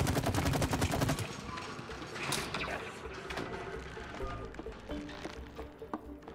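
Rapid bursts of gunfire in the co-op video game It Takes Two, a dense volley at the start and then scattered shots and game effects under a steady mix of sound.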